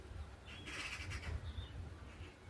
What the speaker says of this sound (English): There's 2 seagulls chasing off a buzzard in the background.